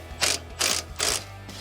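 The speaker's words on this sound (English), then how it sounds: "remove our sway bar end link from our lower control arm using an 18mm wrench or socket" An 18mm wrench or socket ratchets a sway bar end link off the lower control arm of a 2019-2024 Silverado 1500, giving four crisp, evenly spaced clicking bursts, close and clear with no talking.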